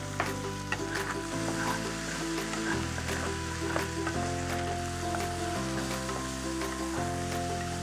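Tomatoes fry with a loud, steady sizzle in a pan for a stew, with spatula scrapes across the pan and music playing underneath.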